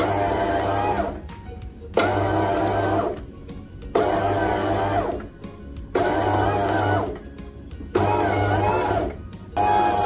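An automatic bread machine kneads dough in repeated motor bursts of about a second and a half, each separated by a short pause. The steady mechanical whirr sounds close and fairly loud, with no voices.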